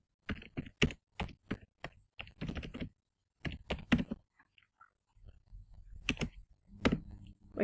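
Someone types on a computer keyboard nearby in quick bursts of clicking keys separated by short pauses, with a faint background hum and no speech.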